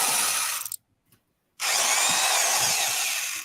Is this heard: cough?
no